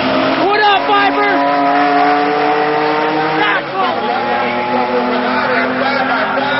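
A drag race car revs and accelerates hard in a loud, close engine roar whose pitch climbs, drops briefly and climbs again as it pulls away.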